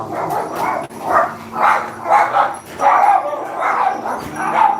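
Dogs bark repeatedly in quick, uneven yapping bursts, loud and close, with a few whimpering yips mixed in and no talking.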